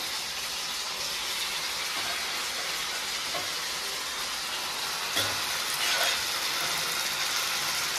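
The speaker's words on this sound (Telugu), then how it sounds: "బాగా ఆయిల్లో ఫ్రై అవ్వాలండి." Boiled chicken pieces frying in oil with onions for a curry-leaf chicken fry, giving a steady, moderately loud broadband sizzle that holds throughout without talk.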